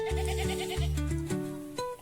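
A goat bleats repeatedly inside an electric fence enclosure, loud and close, with several wavering calls in quick succession and no talking.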